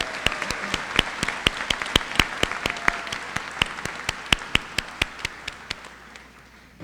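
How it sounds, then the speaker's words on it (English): Audience at a college commencement ceremony claps in a steady round of applause, with sharp individual claps standing out above the dense crowd patter for several seconds, fading slightly toward the end. "let's all recognize the parents, grandparents, relatives, partners, spouses, children, friends of the candidates with a round of applause"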